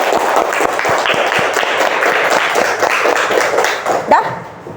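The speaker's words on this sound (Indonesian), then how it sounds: "Tepuk tangan untuk Balkis" Classroom of children clapping for a classmate, a dense, steady patter of many hands that carries on for several seconds before tapering off near the end.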